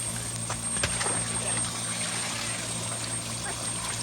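Steady helicopter rotor drone with a low thrumming pulse and high whine, continuous throughout at moderate distance, the helicopter transferring salmon to the North Harbour River spawning channel in St. Mary's.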